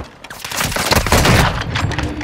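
Rapid bursts of gunfire from Call of Duty Modern Warfare 2 multiplayer, loud and dense, overlapping cracks and booms filling the whole moment with no pause.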